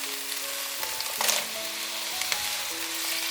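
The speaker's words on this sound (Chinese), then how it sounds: "大概炒了2分钟，把马铃薯放进来。" Vegetables stir-frying in a hot pan, then potatoes added: a steady, close sizzle with soft scraping stir strokes and a brief louder burst as the potatoes hit the oil, no talking.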